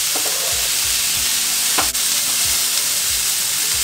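Chicken pieces sizzle lightly in a hot pan, a steady close frying hiss with soft periodic stirring scrapes and one brief clink, no voices.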